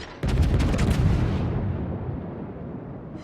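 The battleship Izmail fires a broadside in World of Warships. A single loud booming blast sounds, then a long rumbling decay that slowly fades over the next few seconds.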